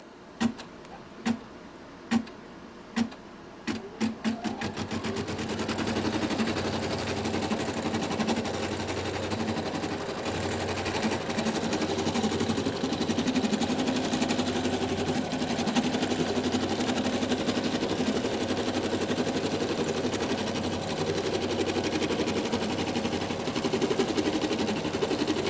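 An embroidery machine stitching an in-the-hoop trivet starts with a few slow, separate clacks, then speeds into a loud, continuous rapid whirring rattle that runs steadily to the end.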